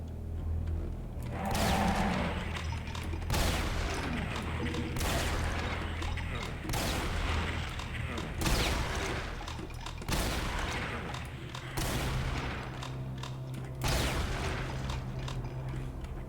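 Heavy gunfire blasts at imps in Brutal Doom 64, a series of loud, booming shots roughly every second and a half, each with a long rumbling tail, dense and continuous throughout.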